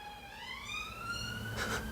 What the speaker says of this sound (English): Sorry if you can hear the sirens going past.